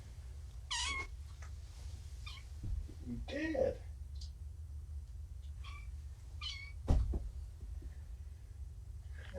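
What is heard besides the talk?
kittens meowing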